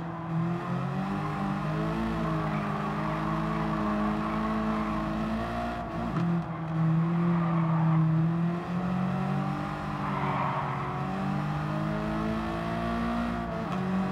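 Race car engines and tyres from the video game Gran Turismo 7 drone steadily throughout, a sustained layered engine tone shifting pitch as cars rev and pass, with no voices over it.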